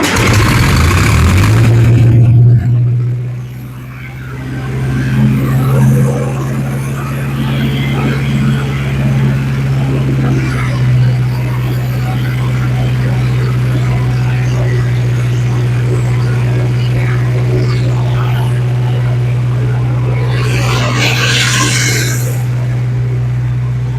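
A tractor engine cold-starts on choke in winter, cranking and catching loudly, then settling into a steady, deep, droning idle with a brief rev near the start, close and continuous throughout.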